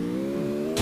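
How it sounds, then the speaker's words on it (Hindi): A vehicle driving nearby in the Free Fire battle royale game, its engine humming in a steady mid-pitched drone for under a second before a brief noisy burst cuts in at the end. "सामने बंदे की गाड़ी चलाने की आवाज़ आ रही है"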